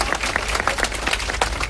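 Crowd applause at an open-air rally at Jantar Mantar, a steady wash of clapping from many hands with no clear pauses, moderately loud and filling the short stretch alone.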